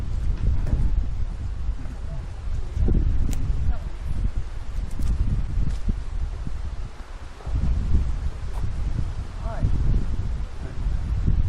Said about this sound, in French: ça fait un bon petit vent frais là-dessous